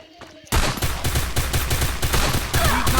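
Rapid bursts of gunfire in the mobile battle-royale game Free Fire, loud repeated shots in a steady rhythm after a short quiet start, nearly continuous with some faint game sounds.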